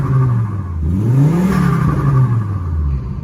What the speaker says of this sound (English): It doesn't pop and bang, but it whirs and it whistles.